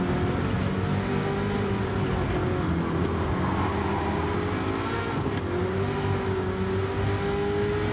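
A Chevrolet Camaro ZL1 race car in Gran Turismo 7 on a mountain circuit. The engine drones loudly and steadily, its pitch rising and falling slightly as it holds speed through corners, with no talking.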